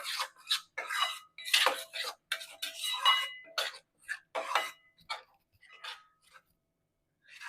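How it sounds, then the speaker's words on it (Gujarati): A spoon scrapes and clatters against a pot while stirring a thick mohanthal mixture, in irregular bursts of close metallic scraping with short pauses between strokes. "અને એને હલાવતા હલાવી દેવાનું છે બધું પ્રોપર મિક્સ કરી લેવાનું છે"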